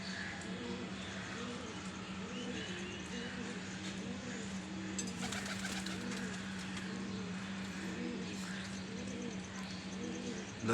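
A pigeon coos in a steady repeating rhythm after landing, close and fairly clear over a constant low hum, with brief faint chirps in the background.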